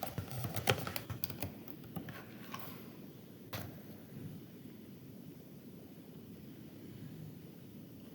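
A computer keyboard being used to type a password, with a quick run of close, crisp key clicks at the start that taper off into near silence.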